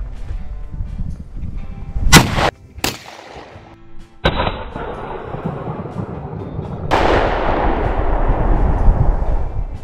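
A 1964 Sauer & Sohn drilling fires at a moving target outdoors on a range: two sharp, loud gunshots close together, followed later by further booming reports with long rolling echoes, no talk.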